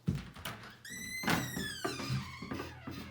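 A front door is opened to collect a mail package, heard as a series of dull thunks and knocks with a creaking squeal partway through, fairly faint and close by.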